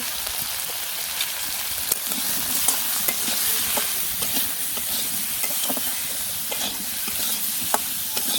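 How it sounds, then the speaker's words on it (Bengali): Vegetables with chili and turmeric powder sauté in a hot pan, giving a steady, moderately loud sizzle and crackle with frequent scraping stirs of a spatula throughout. "সব কিছু একসাথে ভালো করে কষিয়ে নিব"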